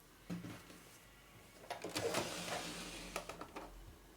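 A sewing machine stitches along the top edge of a cotton tea towel being made into a hand towel, with a quiet mechanical whir that starts and stops in short bursts, close by and faint.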